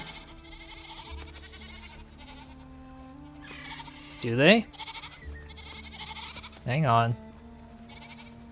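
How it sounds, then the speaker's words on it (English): Goats in the Enshrouded game bleat twice, loud and close, each a wavering cry a couple of seconds apart, over soft background music while a person speaks briefly. "There's the goats."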